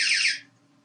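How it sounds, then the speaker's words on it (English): A Texecom SmartCom tamper alarm shrieks as its lid is removed, a loud high-pitched electronic tone that cuts off abruptly within half a second. "Now as the lid comes off, the alarm will go off."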